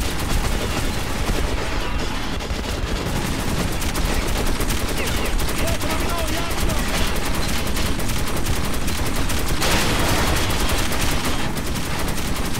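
Dense gunfire in the video game Metro 2033 Redux: continuous rapid machine-gun bursts and booming shots fill the whole stretch loudly, with a brief spoken remark buried under the shooting.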